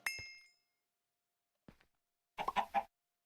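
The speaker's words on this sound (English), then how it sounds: "Chicken. Die, chicken." Minecraft chicken sounds in a video game: a short clucking call, a brief pause, then a louder cluster of clucks close up, with no talking.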